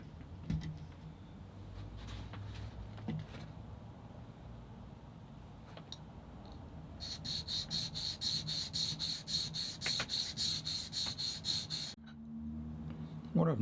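Filing or sanding a guitar nut during a refret, a close scratchy rasping of short rubbing strokes, with a brief run of rapid rhythmic strokes near the end and quiet handling noises between.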